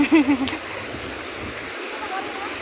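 Water in a creek flows with a steady rushing hiss, while a voice speaks briefly at the very start.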